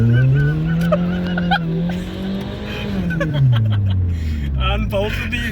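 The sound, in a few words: Toyota Corolla engine revving with exhaust unbolted, race car sound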